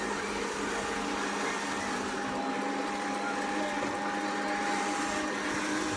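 A Hoover Quest 700 robot vacuum cleaner runs with a constant whirring hum and a steady high whine, close and unbroken for several seconds, with no voices.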